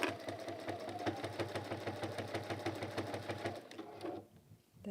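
Sewing machine top-stitching a folded velvet pouch, a steady rapid needle chatter running for about four seconds before stopping, close and alone.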